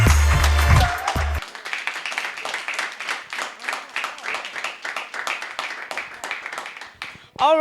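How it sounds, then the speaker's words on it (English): An audience at a Miss Muslimah Ghana 2021 pageant bursts into steady applause after a brief musical sting, the clapping sustained and moderately loud before tailing off. "A big round of applause."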